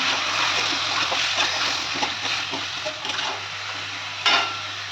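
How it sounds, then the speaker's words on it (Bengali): Chicken pieces being stirred and fried in a kadai, a continuous close sizzle of oil with scraping stirs and light splatters throughout, loud and steady, with no talking. "এবার ভালো করে নাড়িয়ে চাড়িয়ে আগে চিকেনটাকে ভাজবো ভালো করে।"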